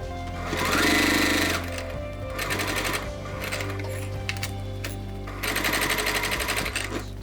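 A sewing machine bastes binding onto a fleece-lined crossbody bag, running in loud, rapid stitching bursts that pause, slow and restart, close up with no voices.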